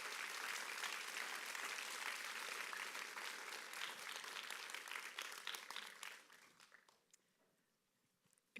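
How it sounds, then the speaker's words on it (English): An audience claps for the TEDxVCU team at a TEDx event, dense, sustained applause that thins after about six seconds into scattered individual claps and then fades out. "Please give one more round of applause for this talented team and the hard work they've done."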